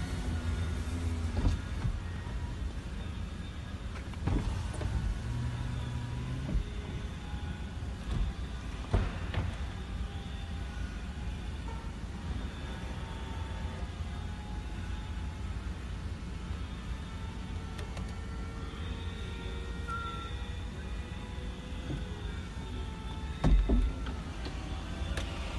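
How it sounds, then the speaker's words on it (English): A Volkswagen Eos 2.0 FSI convertible's folding hood runs through its cycle with a steady mechanical whir and a few soft clunks at intervals, close by over constant background noise. "I'll just show you how the hood operates"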